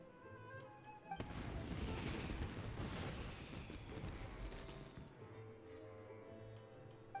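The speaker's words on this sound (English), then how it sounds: "Yoimiya, this is turning into a bit of a fireworks display." Fireworks burst in a Fortnite live stream, a dense, sustained crackling roar of explosions that swells abruptly and then slowly thins, loud against quiet game music.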